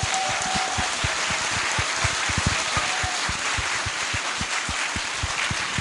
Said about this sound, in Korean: 그런 의미에서 표창원 교수에게 뺑뺑이 잘 돌라고 박수 한번.